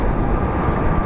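A US Airways airliner at Phoenix Sky Harbor airport gives off a loud, steady engine roar, close and unbroken, with no talking.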